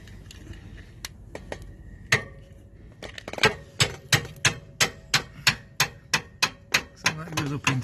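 A hammer drives a Watts link bar into its mounting hole on a Land Rover Discovery 2: a few scattered knocks, then a steady run of sharp, evenly spaced metallic taps, close and fairly loud.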